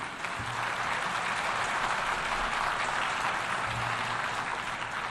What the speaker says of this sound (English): you applaud now